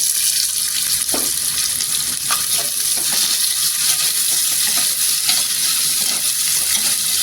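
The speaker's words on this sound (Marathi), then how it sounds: "इथे मिक्स करून घ्यायचं, तेलावर छान असं परतून घ्यायचं।" Chopped onion and garlic sizzle steadily in hot oil in a pan while being stirred for vegetable pulao, a loud, continuous frying hiss with faint clicks of a utensil.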